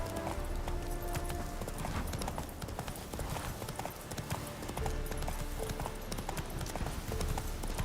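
Hooves of Roach, a horse in the video game The Witcher 3, clip-clop in a steady trotting rhythm over a continuous game background, loud and close throughout.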